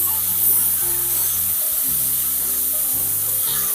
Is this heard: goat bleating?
no